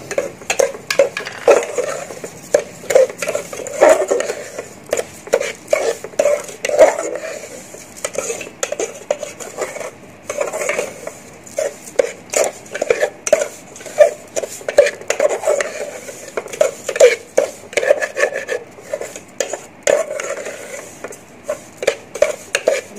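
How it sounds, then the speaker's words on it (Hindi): A spoon scrapes and clatters steadily against a pan while sugar is stirred and roasted into gram flour for besan halwa, the dense rhythmic knocks running on for over twenty seconds with a faint sizzle underneath. "चीनी डालेंगे, थोड़ा सा चीनी की भुनाई करेंगे इसमें।"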